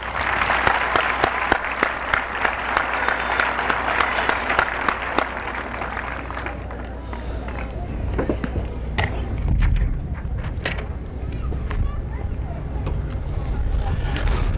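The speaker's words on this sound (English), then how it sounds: "Will you please give them a round of applause?" An audience at a high school commencement gives a sustained round of applause, a dense roar of clapping for about six seconds that fades into a quieter hall with scattered claps and murmuring.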